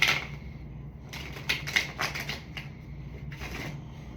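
Cards riffle and snap in a few quick bursts, crisp and close, with short pauses between shuffles.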